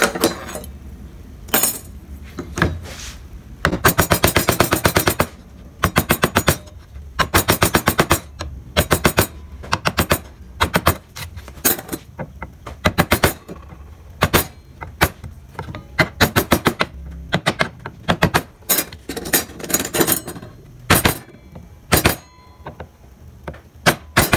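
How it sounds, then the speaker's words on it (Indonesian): A gouge chisel is driven into wood while a barong motif is carved, giving sharp, repeated tapping strikes in irregular bursts with brief pauses between them, close and fairly loud, with no voices. "Kemudian di bagian sebelah sini kalian gunakan pahat penguku ya teman-teman."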